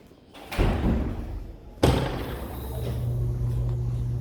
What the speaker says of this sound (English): That door didn't even care to hold for me.